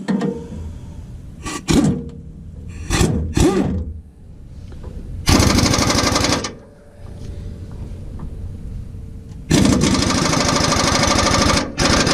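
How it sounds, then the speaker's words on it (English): Air impact gun bursts loosening front differential bolts on a 2009-2012 Ram 1500, several short loud hammering blasts early on followed by two long sustained rattling runs, heard close up in a garage. "put the air gun on the front, hold it back with a wrench"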